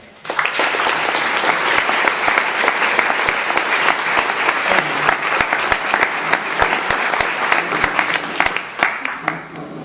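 Sustained applause from a lecture audience welcoming the designers of Methane Studios at a Savannah campus event, dense steady clapping at close range running the full length and easing slightly at the end.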